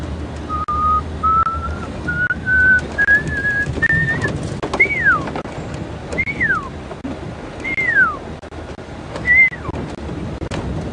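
A person whistles an imitation of a pearl-spotted owl call: a steady run of short notes climbing gradually in pitch, then several separate downward-sliding whistles, over soft outdoor background noise at Djuma Game Reserve.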